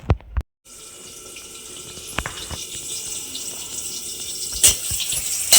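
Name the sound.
washing fish under running tap water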